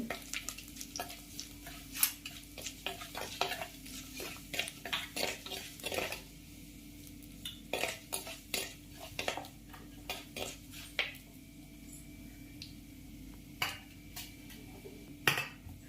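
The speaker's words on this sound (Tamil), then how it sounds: "கத்திரிக்காய் வதங்கின அந்த எண்ணெயில் நம்ம வெந்தயம், கடுகு, சீரகம் மூணுத்தையும் ஆட் பண்ணிக்கலாம். லைட்டாக பொரியட்டும்" Fenugreek, mustard seeds and cumin fry gently in oil left from sautéing brinjal, with a soft steady sizzle under frequent spoon clinks and pan scrapes, fairly faint and close.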